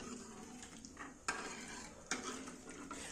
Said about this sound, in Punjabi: ਹੁਣ ਆਪਾਂ ਇਹਨੂੰ ਉਬਾਲੀ ਆਉਣ ਤੱਕ ਹਿਲਾਉਂਦੇ ਰਹਾਂਗੇ ਤਾਂ ਕਿ ਦੁੱਧ ਦਾ ਜਿਹੜਾ ਆਪਣਾ ਫਟੇ ਨਾ